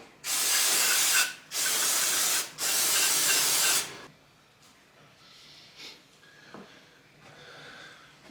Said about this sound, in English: So it's good to use brake cleaner.